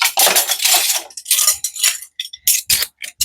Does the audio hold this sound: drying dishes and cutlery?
yes